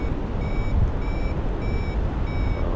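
A paraglider's flight variometer beeps in short repeated high tones, four evenly spaced bursts over a steady rush of wind while gaining altitude near the Old Head of Kinsale.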